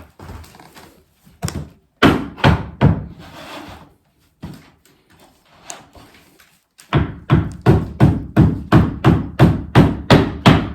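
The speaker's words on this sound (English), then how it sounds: "I'm going to give this thing a few whacks to push that long groove up into place" A hammer strikes door casing to drive a long groove into place, loud sharp thuds in uneven bursts, first a few spaced whacks and then a rapid run of about a dozen evenly timed blows.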